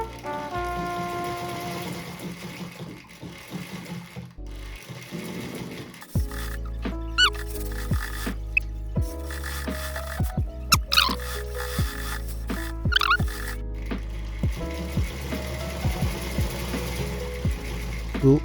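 A domestic sewing machine stitches a fabric tote bag through a thin layer of cloth with its thread tension tightened. The motor whirs up and runs steadily with short stops and changes of speed, loud and close with no talk.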